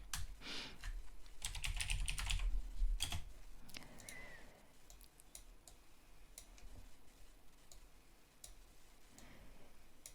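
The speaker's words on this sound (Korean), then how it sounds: "영상을 지우고 텍스트를 하나 쳐볼게요" Fingers typing a short word on a computer keyboard, a quick cluster of crisp key clicks early on, then a few scattered taps over a quiet room background.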